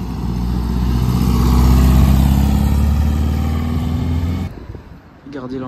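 A vintage Porsche 356 race car at a golden-age grand prix event approaches with a loud, sustained mid-pitched engine drone, holding steady before fading as it passes, with crowd voices around.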